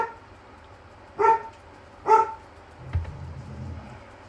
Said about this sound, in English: Bear with me a sec while he has a good bark.